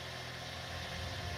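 A car engine in an indie horror game set on a cornfield road at night hums steadily at idle, then swells slightly toward the end as it pulls away, low and continuous with no voices.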